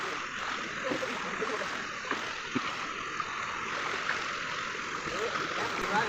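Water rushes continuously out of an opened dam gate, a steady, close roar of turbulent flow with no breaks.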